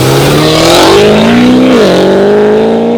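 A Land Rover truck with a modified exhaust system: a loud, deep engine drones steadily with a throaty exhaust note, the pitch rising slightly then dipping as it revs.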